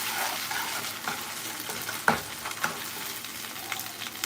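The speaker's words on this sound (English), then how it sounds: "Tomato paste and onion smell real good when you're cooking it." Tomato paste and onion fry in a pan for jollof rice, giving a steady close sizzle with a few sharp scrapes or taps of a utensil against the pan, and no voices.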